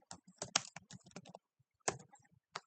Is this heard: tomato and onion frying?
no